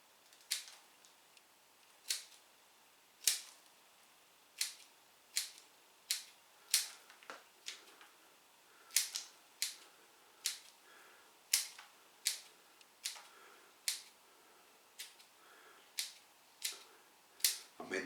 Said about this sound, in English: I'm going to trim them. I'm going to cut them off about there.